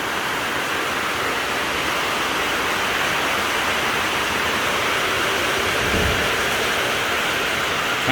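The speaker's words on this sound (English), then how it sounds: "Man, it's pouring down." Heavy rain pours down on a shed in a steady, dense roar, loud and unbroken, with no voices.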